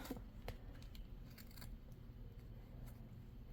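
Scissors click and snip faintly in a few short, sharp ticks while trimming applique fabric around an embroidery hoop, very quiet against a low background hum with no talking.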